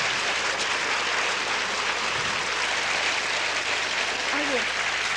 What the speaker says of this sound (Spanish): le vamos a agradecer a Sol con un fuerte aplauso su ponencia.